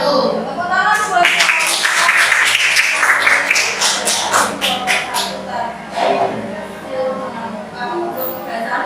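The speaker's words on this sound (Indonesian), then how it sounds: "Tepuk tangan buat" Classroom audience at an Indonesian language lesson clapping hands in a thick burst of applause lasting several seconds, then thinning out while voices carry on beneath.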